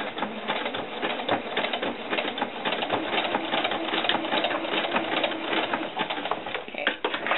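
A sewing machine zigzag-stitches across a doll skirt, running in a steady continuous whir with fast stitching texture throughout, close and moderately loud with no voices.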